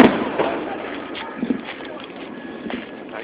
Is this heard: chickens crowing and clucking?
no